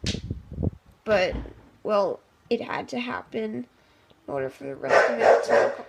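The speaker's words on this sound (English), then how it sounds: "That's just my dog." A pet dog barks in a short burst of sharp yaps at the start, followed by someone talking over the quieter room.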